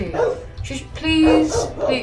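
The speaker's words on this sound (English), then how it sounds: "oh, my dog's barking" A dog gives a couple of short, close barks and yips indoors, mixed with a person speaking over it.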